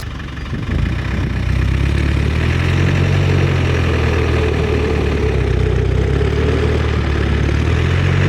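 An overland vehicle's engine starts up and then runs with a steady low rumble, loud and close, while driving off a dry lake bed campsite in Cappadocia.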